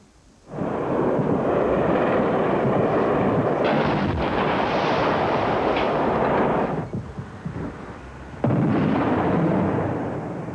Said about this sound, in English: massive explosion shook the information ministry